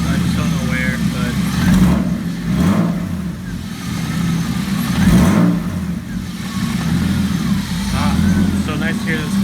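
A turbocharged BMW E36 with a vacuum leak idles nearby and gets a few blips of the throttle, its engine rising and falling. Talk runs over the engine throughout.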